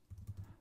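A few quick, soft keystrokes on a computer keyboard, faint and close, in a very short burst.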